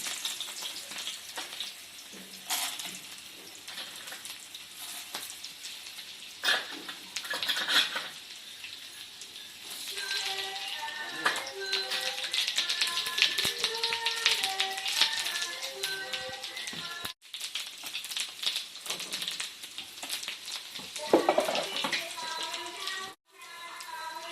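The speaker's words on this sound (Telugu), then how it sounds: "మిక్స్ చేసుకుని ఇప్పుడు తాలింపు వేసుకోవాలి." Tadka tempering with garlic for ridge gourd chutney, oil crackling and sizzling in a small pan with bursts of popping, clinking spoon taps and stirring, close up and fairly quiet.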